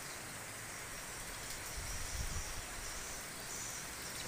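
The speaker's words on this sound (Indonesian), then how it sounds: "Hujan guys, maksudnya kita berhenti dulu berteduh guys ya." Rain falls steadily in a village, a faint, even hiss of drops with a few slightly louder low patters near the middle.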